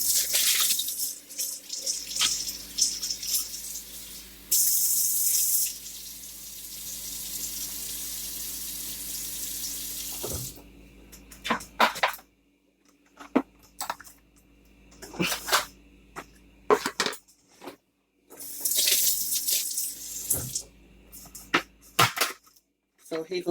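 A kitchen faucet runs steadily for about ten seconds while hands are washed, then shuts off, followed by intermittent clatter and a second brief burst of running water near the end.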